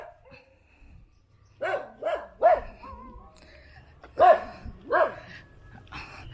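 Dogs barking around a home in the Philippines, a series of sharp, mid-distance barks and yips in uneven clusters, with whimpering tones and quiet background between bursts.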